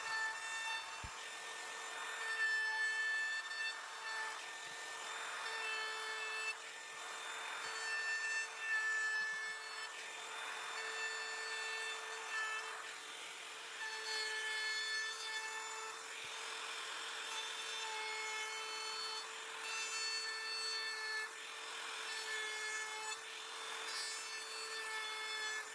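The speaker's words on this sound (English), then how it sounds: "trim's now done, and I can give it a final sand" Hand sanding of small wooden workshop coasters after trimming, a steady, fairly quiet scraping rub that continues in uneven strokes with no talking, set against a constant background hum.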